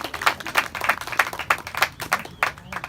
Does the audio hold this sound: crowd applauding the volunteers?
yes